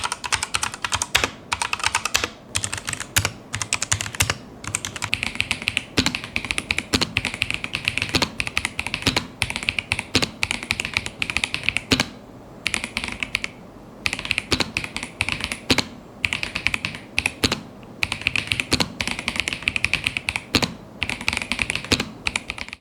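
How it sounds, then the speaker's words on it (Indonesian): Typing on a Logitech gasket-mount mechanical keyboard, a close, continuous run of crisp key clacks and taps in uneven bursts with a few short pauses. "di sini untuk tes suara nantinya gue akan bandingkan dengan beberapa keyboard yang gue miliki"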